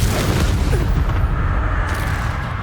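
A Confringo fire spell exploding in Hogwarts Legacy, a deep booming blast with a rumbling tail that fades over a couple of seconds, loud and close.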